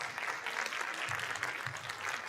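A school district event audience applauds students, a steady wash of clapping heard at moderate distance with a low hum underneath.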